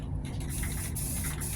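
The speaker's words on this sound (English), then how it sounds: "spray with gold paint and they'll look a little better" Aerosol can spraying gold paint onto metal strips for century-old organ bellows, a steady close hiss running continuously with slight pulses in strength and no talk.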